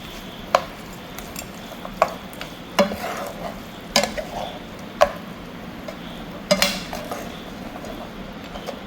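Pork coated in Kashmiri chili powder is stirred in a pan for a Coorg-style dish, with repeated scraping and clacking of a utensil against the pan at irregular intervals over a soft, low sizzle.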